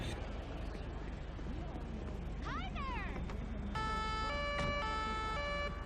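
In a police patrol video game, a fire engine siren wails alongside an emergency medical vehicle over constant road and engine noise, the rising tones arriving partway through and steady electronic tones following, with a voice speaking throughout.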